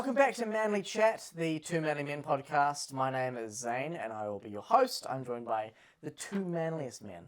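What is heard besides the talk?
No everyday noise stands out behind the speech.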